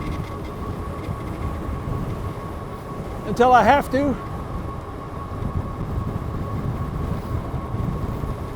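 Hub motors of a Philodo Jumbo ebike whir steadily with road rumble while riding, a continuous mechanical drone with a brief spoken phrase over it.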